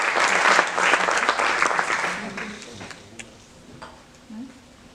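An audience in Saint-Pierre, Réunion, applauds a musician with a dense burst of clapping that fades away after a couple of seconds, leaving quieter room sound and a few voices.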